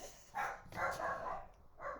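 Several small dogs yap and bark in quick bursts at a moderate distance, the barks clustered over about two seconds with brief gaps between them.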